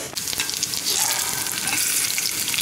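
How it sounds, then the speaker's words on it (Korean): Korean Kaesong-style dumplings filled with pork, cabbage, perilla oil and chili flakes pan-frying in oil, a steady close sizzle and crackle running throughout with no talk. "그럼 군만두로 해서 먹어보도록 하겠습니다"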